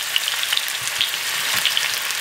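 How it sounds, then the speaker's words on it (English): Ground beef frying in a pan on a stovetop, a steady bright crackling sizzle with scattered pops and occasional soft stirring scrapes, close and continuous without talk. "we're going to start that frying there on the stovetop until it's partly cooked"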